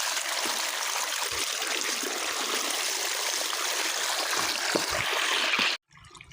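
Water gushes out in a steady, dense rush from a borewell pipe, close and loud, then stops abruptly just before the end.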